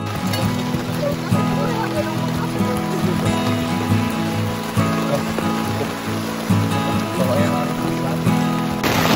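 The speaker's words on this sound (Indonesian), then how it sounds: "Tapi kejebak hujan, cukup deras. Deras banget sih." Heavy downpour at Rawa Embik on Mount Argopuro in East Java, caught during a lunch stop under a makeshift emergency shelter, giving a dense, steady roar of rain throughout with a low, constant rumble beneath.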